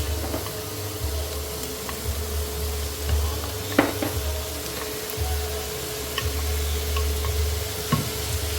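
Vegetables, including cauliflower, sizzle in extra virgin olive oil in a pan while being stirred, a loud continuous frying hiss broken by occasional clicks and scrapes of the utensil.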